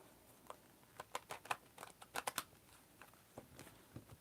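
A deck of tarot cards is shuffled by hand, quiet crisp riffling and snapping flicks in irregular bursts, close and faint, with no talking.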